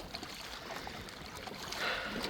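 A wide Jackson Kayak BigRig or Knarr kayak pushes through big waves, giving a continuous broadband rush and splash of water with brief louder surges as the bow hits the swells.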